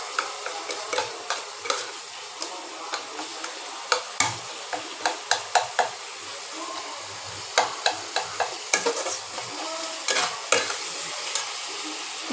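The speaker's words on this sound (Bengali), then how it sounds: "দেবো হলুদ, এবার একসাথে এবার কষাবো।" Figs and potatoes are sautéed with turmeric and spices in a pan, giving a soft, steady sizzle. A spatula scrapes and taps against the pan in a quick, uneven rhythm throughout, close and clear.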